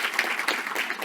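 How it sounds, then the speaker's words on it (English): A brief burst of audience applause at a business conference, scattered clapping from a modest crowd, fairly close and without speech. "Round of applause for IBM, please."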